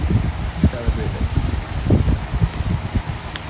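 An electric fan blows air straight onto the microphone on a hot day in Marinduque, giving a steady rushing buffet beneath continuous speech.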